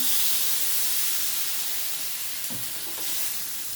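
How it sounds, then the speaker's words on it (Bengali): Water poured into a hot pan of well-fried vegetable stalk curry sets off a steady, loud steam hiss and sizzle that fades slightly, with faint stirring clinks near the end. "এবার আমি জল দিয়ে দেবো।"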